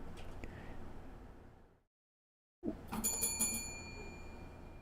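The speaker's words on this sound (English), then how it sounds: "if you hear a bell, that's because my girlfriend is wanting to harass me" A bell rung in a room, bright metallic rings like a bicycle bell, clustered in a short burst after a brief silence, with a faint earlier ring and room noise before it.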